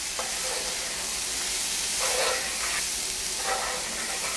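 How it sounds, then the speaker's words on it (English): Onions fry in a pan under a constant dense hiss and sizzle, with a few faint stirring scrapes rising briefly out of it; close and continuous, with no voices. "I'm going to stir this up"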